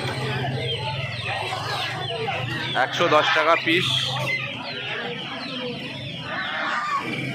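Sonali chicken chicks crowded in cages at the Uluberia hen market cheep and cluck amid a busy market hubbub, with people talking nearby.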